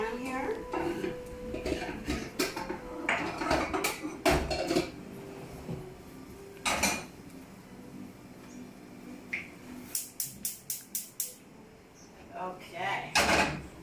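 A metal pan clanks and scrapes on a stovetop while butter is set to melt, with scattered knocks and clatters, some sharp taps near the end, and a voice talking over much of it.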